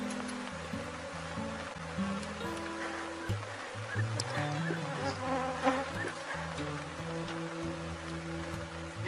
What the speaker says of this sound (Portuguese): Enxames assim, gente, que voa muitas abelhas para todo lado.